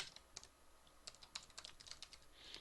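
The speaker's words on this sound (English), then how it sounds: "I was typing and I was looking at my keyboard because I got a weird keyboard right now" Keys clatter on a computer keyboard in an irregular burst of quiet, close clicks and taps with no voices, heard while Java code is being typed.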